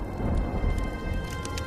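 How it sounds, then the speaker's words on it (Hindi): Heavy rain hisses steadily over a low rumble of thunder, dense and close, with no voices. "आसमान में काले बादल छा जाते हैं और जोर जोर से बिजली कड़कने लगती है"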